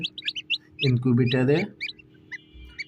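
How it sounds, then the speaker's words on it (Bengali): Newly hatched ducklings and chicks, just taken from an incubator into a brooder warmed by bulbs, give a stream of high, short peeps close by, with a louder rasping call in the middle. "এগুলো হাঁস এবং মুরগির বাচ্চা।"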